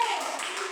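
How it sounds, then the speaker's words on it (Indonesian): Brief burst of clapping from a classroom group applauding, a dense patter of many hands close by. "tepuk tangan kelompok 4"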